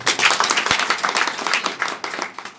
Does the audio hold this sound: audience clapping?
yes